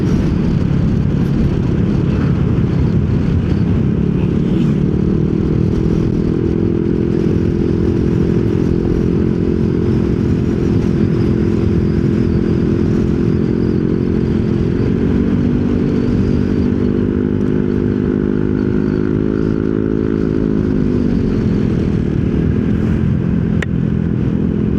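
Yamaha Nmax scooter engine braking with a steady low drone that dips and rises in pitch as speed changes, heard close up over continuous road and wind noise, with no talking.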